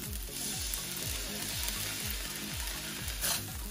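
Fried rice sizzling hard in a wok over high heat just after soy sauce is poured in, a steady loud crackling hiss with rhythmic scraping of stirring throughout.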